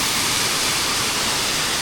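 Steady, loud rushing roar of a waterfall beside a valley campsite in Miryang, a dense continuous wash of falling water with no other sounds.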